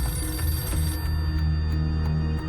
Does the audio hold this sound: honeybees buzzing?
no